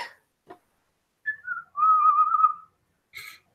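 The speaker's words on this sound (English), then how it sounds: "Just kind of whistle on my way up." A person whistles during a tabletop role-playing game session: a couple of short rising notes, then a longer warbling whistled phrase, fairly clear and close, followed by a brief sharp noise.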